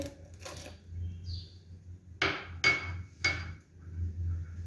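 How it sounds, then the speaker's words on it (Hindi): Cashews, almonds and pistachios drop into a pot of boiled milk for sheer khurma, giving three sharp, close clattering hits in quick succession over a low background hum. "अब इसके अंदर मेवे डाल देंगे। काजू जाएगा, बादाम, पिस्ते,"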